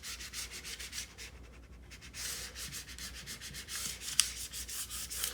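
A large vinyl sheet is smoothed by hand onto a surface while making a vinyl sign, giving a steady, close rubbing and sanding-like scrape that runs throughout, with one brief sharp tick near the end.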